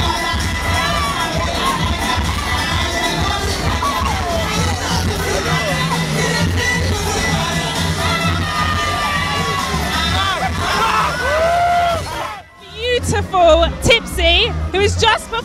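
Large crowd at Notting Hill Carnival cheering and shouting, a loud sustained roar with whoops, then a brief drop and renewed bursts of cheering as voices talk nearby.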